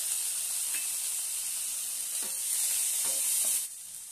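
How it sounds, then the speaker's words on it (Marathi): Chopped tomato hitting a hot pan for dhaba-style methi malai matar, a steady bright sizzle and fry hiss running throughout with a few soft stirring scrapes, dropping slightly near the end; no talking. "आता यामध्ये एक टोमॅटो कट करून घेतलेला आहे तो घालूया।"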